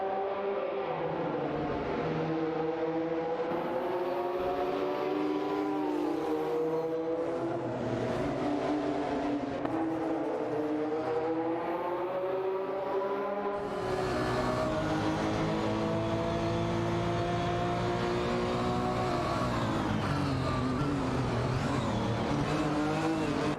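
Race car engines in a racing video game, including a Porsche 928 GTS and a McLaren F1, drone and whine continuously, their pitches rising and falling with gear shifts as several cars run close together.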